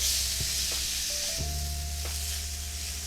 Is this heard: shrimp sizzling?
yes